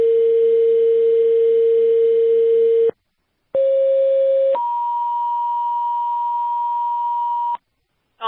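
Fire dispatch radio alert tones for a rescue and ambulance call, a steady low tone for about three seconds, a short pause, then a higher two-step tone sequence lasting several seconds, loud and clean with no talk.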